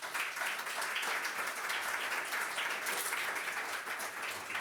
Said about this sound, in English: please, a round of applause for Michael Famigetti